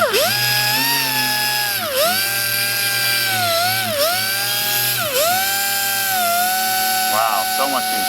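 A pneumatic orbital polisher with a 3mm orbit whines loudly as it primes a brand-new polishing pad, a steady high-pitched tonal drone that dips briefly in pitch several times under load, with someone talking over it.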